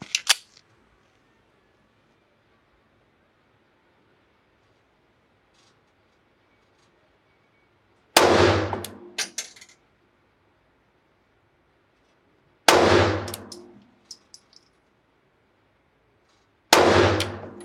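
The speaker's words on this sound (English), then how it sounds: "Okay, I'm shooting 3-round groups." Springfield Armory Hellcat pistol firing Federal Punch ammunition at about 10 yards, three sharp loud gunshots spaced several seconds apart, each with a brief ringing tail and clatter, silence between them.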